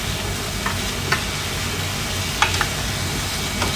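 Onion and garlic sauté in a pan for kare-kare, a loud continuous sizzle up close, with a few sharp scrapes and clicks as the spatula stirs. No one speaks.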